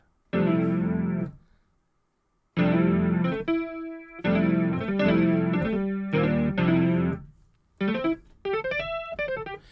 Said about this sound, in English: It's an electric Grand. But it's going through an amp